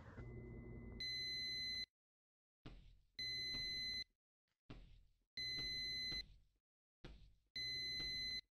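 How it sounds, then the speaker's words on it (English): A home oven timer beeps in four long, loud, evenly spaced bursts, each a steady electronic tone, with short scuffling sounds in the gaps between them. "Is that my oven beeping?"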